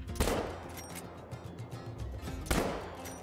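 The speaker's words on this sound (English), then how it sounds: "Just take the shots as they begin to get into range instead of waiting for them to start landing" Two loud 10 gauge shotgun blasts ring out on a green wing teal hunt, spaced a couple of seconds apart, each with a sharp crack and a rolling outdoor echo.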